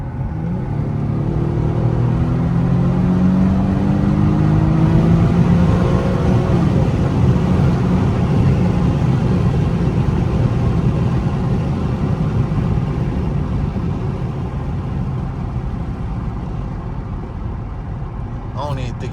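A brand-new car's engine rumbles steadily and close, with a few rising revs early on, heard on a snowy day through its stock exhaust.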